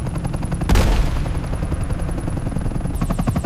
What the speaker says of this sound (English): One calculated shot cripples their escape.